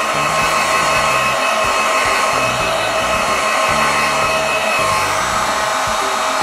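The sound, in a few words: heat tool blowing hot air to dry a craft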